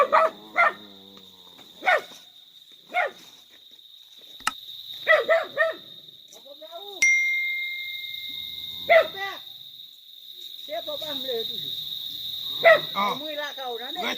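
A dog barks in short single or paired yelps spread across the scene, nearby and moderately loud, while a man calls out to it between barks and crickets chirp steadily in the background.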